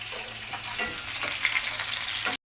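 Food frying in a pan in a home kitchen, a dense continuous sizzle with faint stirring that stops abruptly, heard alone and close.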